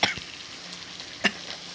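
Tomatoes, onion and chili fry in a pan with a soft steady sizzle, broken by two sharp scraping stir strokes at the start and near the middle; no talking.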